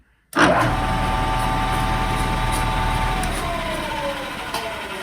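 Bridgeport milling machine fitted with two cutter heads, spinning at 1000 RPM while surfacing a 1927 Chevy cylinder head: a loud, steady mechanical whir that starts abruptly and holds nearly constant, with faint tonal whine riding on top.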